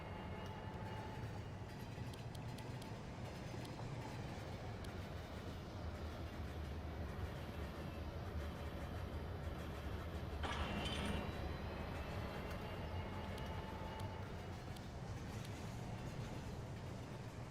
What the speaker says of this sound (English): And you can get a decently long little train moving down